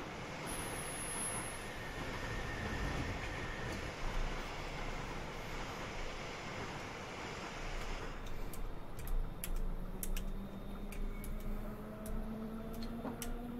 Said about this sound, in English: There's a train coming, there's a Pendo.